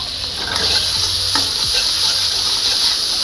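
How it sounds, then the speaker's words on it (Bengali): Salted prawns cooking in a mustard-poppy paste sizzle loudly and steadily in a pan as a spoon stirs through them, with a few soft scrapes. "একটু নেড়ে নেবো।"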